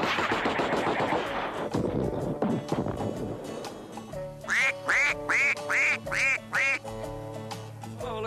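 A human voice mimics rapid machine-gun fire in a dense rattling burst, then switches to a run of six loud, evenly spaced duck quacks, all imitated sounds in a comic duck-hunting skit.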